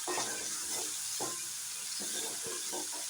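Turkey berries sautéing in a pan for chutney, a steady soft sizzle with intermittent scraping stirs of a spatula, close and without talk.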